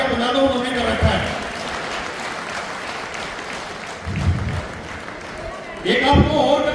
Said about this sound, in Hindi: एसडीएम साहब ने भी तालियां बजा दो